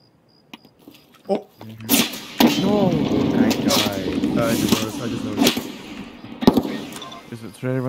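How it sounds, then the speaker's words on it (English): Gunshots in the video game Escape from Tarkov: several sharp cracks at uneven intervals, some loud and near, others fainter, heard under steady talk between players. "Should I run to those shots?"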